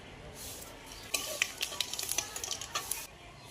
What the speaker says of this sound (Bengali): এবার ফোড়নে দিচ্ছি দুটো শুকনো লঙ্কা, একটুখানি পাঁচফোড়ন